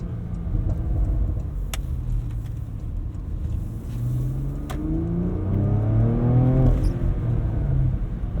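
A Porsche Macan Turbo accelerates hard through paddle-shifted gears, its engine note climbing steadily and loudly with rising pitch sweeps, heard from inside the cabin with no talking.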